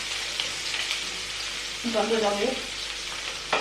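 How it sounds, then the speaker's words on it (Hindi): Tadka of ajwain hissing and sizzling in hot oil in a pan, a steady close frying crackle throughout with a brief spoken word over it. "तड़का लगता है इसमें तड़का लगता है अजवाइन का"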